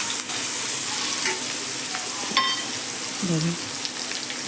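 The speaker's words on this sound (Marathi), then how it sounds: "मी ठेचा घालते जो मी भाजून घेतलेला मिरचीचा ठेचा चांगला परतून झाला" Roasted green chili thecha sautéing in a pan, a constant close frying hiss with a few faint scrapes of stirring and a brief soft tonal sound near the end.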